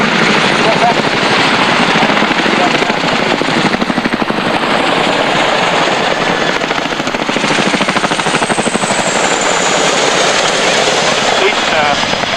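Military helicopters from squadrons based at Odiham in Hampshire fly in an air display, their loud rotor chop a steady pulsing roar throughout, with a commentator's voice faintly under the noise.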